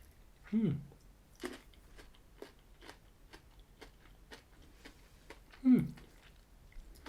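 Peanut butter M&Ms being chewed, with crisp candy-shell crunches close up: a few louder bites separated by quieter rhythmic chewing.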